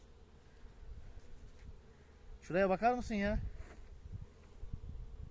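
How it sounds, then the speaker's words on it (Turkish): Honeybees hum in a low, steady buzz around a hive throughout, close by, while someone briefly speaks over it in the middle. "Nektar polen getirmekten arılar kudurdu."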